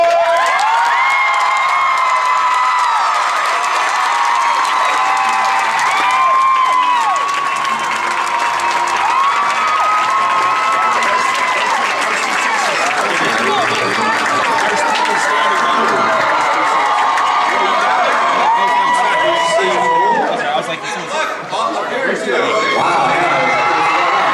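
A large comic con crowd cheers, whoops and applauds to welcome actor Matt Smith to his panel, loud sustained shouting and screaming with clapping underneath, voices rising and falling across the long stretch.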